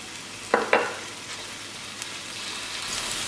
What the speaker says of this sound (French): va faire revenir les champignons dans un peu d'huile d'olive